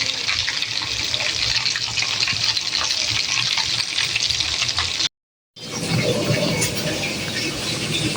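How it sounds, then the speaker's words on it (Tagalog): Fresh tilapia fries in hot oil with a loud, dense, continuous sizzling hiss that cuts out briefly to silence and then resumes just as strong. "kasi magpiprito ako ngayon ng"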